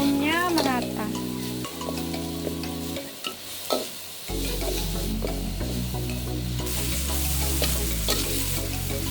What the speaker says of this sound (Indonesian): Bumbu yang dihaluskan kita mulai tumis, dicampur dengan daun jeruk, serai, lengkuas, dan daun salam.